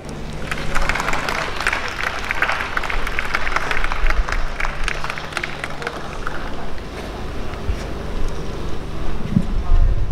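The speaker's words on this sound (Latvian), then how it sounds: "ar aplausiem sagaidam Lieni" An outdoor festival crowd at an open-stage talent show claps in welcome of a young singer, a steady wash of applause with a persistent buzzing hum underneath and some crowd noise.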